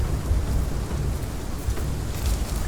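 Rain pours steadily in the dinosaur survival game Path of Titans, a dense, even hiss with a low rumbling undertone that stays loud and constant throughout.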